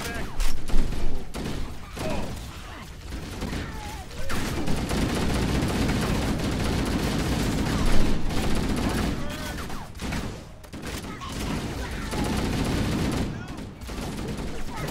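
Sustained video-game gunfire from Halo: Combat Evolved crackles in dense, rapid bursts throughout a battle against Elites, with near, loud volleys, heavy thuds and brief pauses.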